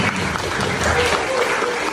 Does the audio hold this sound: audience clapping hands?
yes